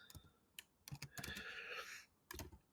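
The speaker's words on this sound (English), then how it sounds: "I type instructions and macros." Fingers tap quickly on a computer keyboard in short bursts of clicking keystrokes, faint and close, without voices.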